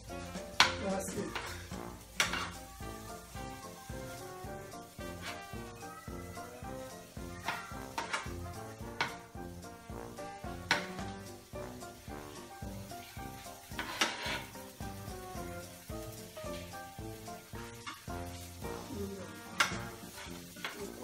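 Spinach, onion and mushroom frying in a pan with oregano, stirred often, with repeated clinks of utensil on pan over a steady sizzle and background music.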